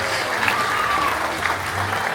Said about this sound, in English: A round of applause for all of our dancers.